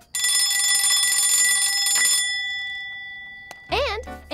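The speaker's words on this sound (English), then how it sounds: "An alarm clock to make sure we don't take too long." An alarm clock in an animated children's cartoon, ringing loudly with a continuous bell jangle for about two seconds and then a fading ring-out, followed by a brief warbling cartoon sound effect.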